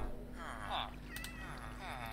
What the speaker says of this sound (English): He's got a cat as well.